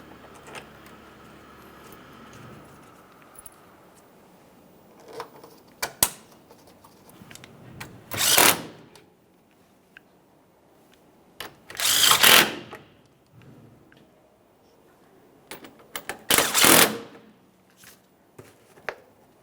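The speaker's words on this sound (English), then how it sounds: "We'll install all 3 of our 10mm headed mounting bolts. Go ahead and start those in and we'll snug them up." Short bursts of ratcheting on 10mm mounting bolts for a radiator fan assembly on a 2009-2014 Nissan Maxima, three close rasping runs separated by quiet pauses and small clicks.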